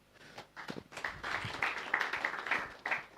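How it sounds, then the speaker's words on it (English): An audience at an energy-access symposium in Abuja gives a round of applause, with scattered claps that quickly swell into sustained clapping lasting a few seconds. "Once again, round of applause for them."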